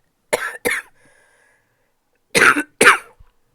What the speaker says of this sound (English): I apologize so much for all the coughing